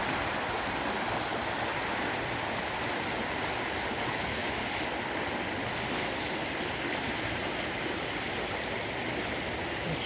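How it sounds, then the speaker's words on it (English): A rain-swollen creek after a night of rain rushes with a steady, dense broadband roar that stays constant and fairly close throughout, with no voices. "the creek is flowing pretty good because it's pretty much been raining all night"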